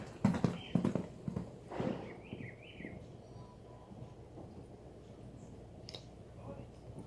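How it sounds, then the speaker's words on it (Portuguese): During show-jumping training, a horse's hooves thud in a quick galloping rhythm, loud at the start and then fading under faint background sound, with a bird chirping briefly. "Ela aumentou o galope"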